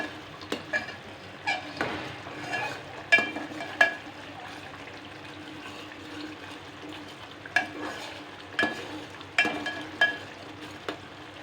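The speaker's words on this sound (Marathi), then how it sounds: "हे बघा टॅमॅटो प्युरी कशी मस्त भाजले जाते तेलामध्ये तेल सुटायला लागलेलं आहे" Tomato puree fries in oil in a pan for paneer tikka masala, a soft continuous sizzle broken by repeated clinks and scrapes of a spoon stirring, close up with no talking.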